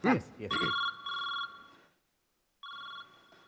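A phone rings with a bright electronic double trill, repeating after a short pause, while a voice speaks briefly at the start.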